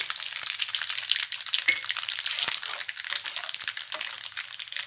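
Mustard seeds spluttering in hot sesame oil with asafoetida for a garlic and citron-juice pickle, a dense steady crackle with rapid irregular pops close up, no voices.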